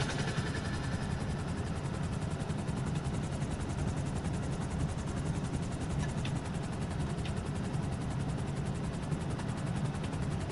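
Helicopter in the video game GTA Online during the Perico Heist, its steady low rotor thrum and engine drone filling the scene continuously and loudly with no break.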